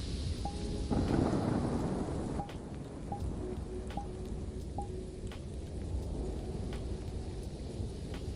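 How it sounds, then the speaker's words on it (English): Rain and thunder from a thunderstorm play as ambient sound in a VRChat world: a steady wash of rainfall with low rumbling, some brief crackles, and a few faint tonal blips over it. "I was wondering if the thunderstorm sounds are too loud."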